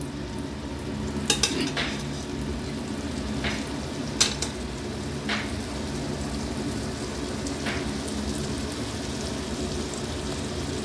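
Eggplant slices fry in a pan with a continuous crackling sizzle, broken by several sharp utensil clicks and taps against the pan; no one speaks.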